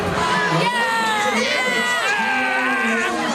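An outdoor crowd at a summer ball game cheers and shouts loudly, with high excited voices and screams overlapping continuously.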